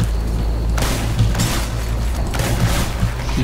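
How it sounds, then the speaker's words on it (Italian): Enemy gunfire aimed at the player in the video game Hatred: dense, overlapping bursts that rise and fall in waves over a constant low rumble, with no talk over them. "Mi stanno sparando, lo sai?"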